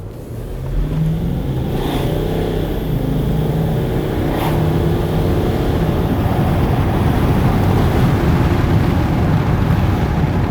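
A Range Rover accelerating up to speed on the road, a loud, steady engine and road roar that builds and holds from inside the cabin, with a couple of brief higher tones early on.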